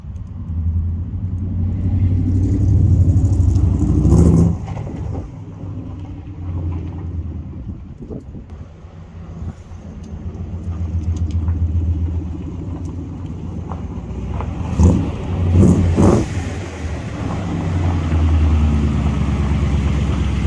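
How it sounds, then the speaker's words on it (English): A 1968 AMC Javelin with a 343 V8 warms up, its low rumbling idle steady and close with a few swells in revs, no talking over it. "We're gonna let the Javelin warm up."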